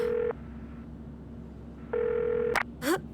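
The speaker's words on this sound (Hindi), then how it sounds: "फोन उठाओ फोन।" A telephone rings in two bursts of electronic tone with a pause between, followed by short clicks and rustles as the handset is picked up, heard clearly against quiet room noise in an Urdu-dubbed drama scene.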